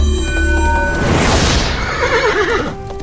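A loud horse whinny sound effect rises into a shrill neigh and then breaks into a wavering, trilling whinny close up, with a low rumble underneath.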